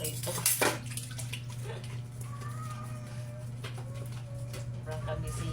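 Dishes being washed by hand at a home sink, with running water splashing steadily throughout, a short louder burst near the start, and a voice speaking over it.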